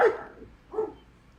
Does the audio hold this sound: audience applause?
no